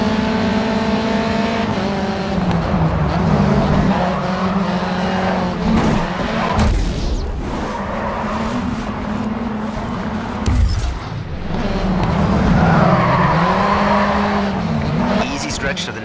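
Race cars roar off the start in the Grid 2 racing game, with engines revving loudly, tires squealing and skidding, and cars rushing past up close. A voice talks over the engine noise in places.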